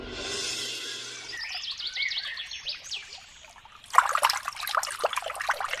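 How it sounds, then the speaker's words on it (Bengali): Cartoon sound of water filling a container, a trickling pour that shifts in pitch as it fills, then a brighter splashing stream, close and moderately loud with no speech. "ও বুড়িমা, জল ভরছেন?"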